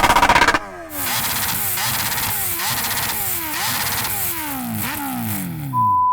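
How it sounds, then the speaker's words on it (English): A superbike, Kawasaki H2R or Ducati Panigale, revved repeatedly up close: a brief loud burst, then a run of rising and falling throttle blips at a steady rhythm, settling toward a sharp high-pitched idle at the end. "Can you rev up your bike?"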